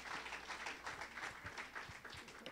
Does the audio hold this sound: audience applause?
yes